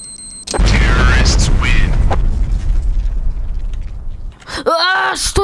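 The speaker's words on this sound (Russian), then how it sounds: "И происходит взрыв." A sudden loud explosion in Garry's Mod bursts in and rumbles for a few seconds before fading, with a voice speaking at the end.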